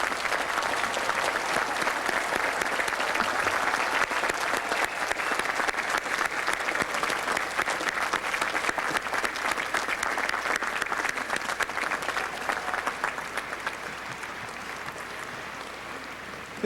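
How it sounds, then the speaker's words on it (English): Sustained, dense applause from graduates clapping for their parents and families at the 1995 MIT commencement ceremony, a steady roar of many hands lasting the whole stretch without a break. "Will you, our graduates, please rise, turn to your parents and families, and give them the applause they so richly deserve."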